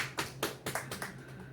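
Worshippers at a Korean church Sunday service clap a few times, producing several distinct, spaced hand claps, fairly faint, from the congregation.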